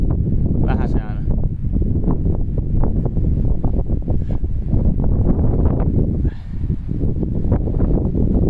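Raw outdoor wind buffets the microphone in a loud, continuous low roar with uneven gusts, and brief snatches of voice pass underneath.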